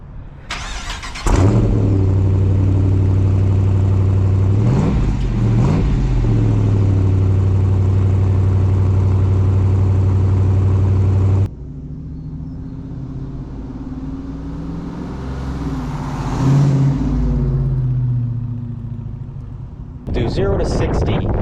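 Stock 5.7-liter HEMI V8 in a 2023 Dodge Challenger R/T Last Call Edition, a loud, steady near rumble that cuts off, then returns lower with a swelling rev and rising intake roar, under talk.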